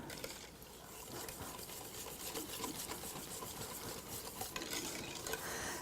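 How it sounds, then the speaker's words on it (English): Mustard mixture stirred in a stainless steel bowl, a quiet, continuous scraping and swishing of utensil against metal, faint and steady with no talking. "Then we're going to start stirring this around and mixing it up."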